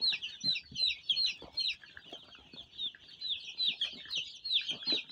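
Newly arrived chicks peep and chirp busily in a constant high chatter, with soft clucks and pecking noises as they eat and drink close by.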